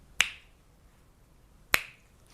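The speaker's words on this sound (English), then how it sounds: "We'll start when I snap my fingers." Two sharp finger snaps ring out alone in a quiet room during a guided meditation session, spaced about one and a half seconds apart, crisp and close with a brief decay.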